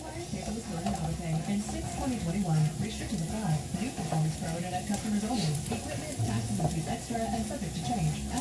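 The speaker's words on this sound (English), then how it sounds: "we're going to start to saute some onions" Onions sizzle and crackle steadily in a hot pan while being stirred, a continuous frying hiss with people talking over it throughout.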